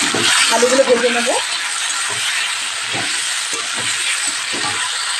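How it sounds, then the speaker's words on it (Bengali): Potatoes fry in hot oil in a pan with bay leaves and a pinch of turmeric, giving a loud, steady hiss that runs the whole time while a voice speaks briefly near the start. "আলুগুলো ভেজে নেব।"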